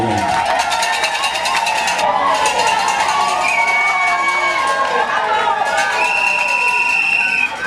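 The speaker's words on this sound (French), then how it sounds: "alors que nous acclamons très très fort pour elle" Wedding guests cheer loudly for the bride in a continuous roar of shouting and whooping, with shrill high calls rising above the crowd throughout.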